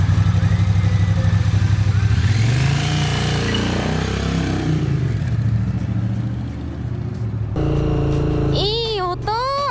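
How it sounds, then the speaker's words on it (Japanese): Triumph Speed Twin 900 with a custom muffler, a deep exhaust rumble rising and falling as it pulls away, then settling to a lower drone while a voice speaks over it. "これ本当に純正カスタムマフラーの音じゃん。"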